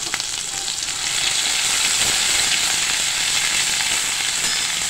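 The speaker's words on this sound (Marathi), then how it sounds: "आता ही पेस्ट आपल्याला छानपैकी असं भाजून घ्यायची आहे बरं का" Masala paste for mutter paneer is roasted in a pan of hot oil with mustard seeds, turmeric and asafoetida. A close, steady sizzle swells louder after the first second and keeps going, with faint crackles and no voice.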